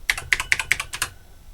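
Keys clack on a BBC Master computer keyboard, about six sharp close keystrokes in an uneven quick rhythm over about a second, then quiet, no voices.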